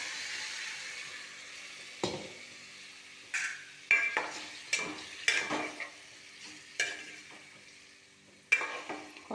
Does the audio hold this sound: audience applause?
no